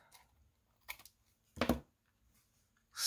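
Scissors trim a black paper tag in a few short, quiet snips spaced apart, with near silence between the cuts.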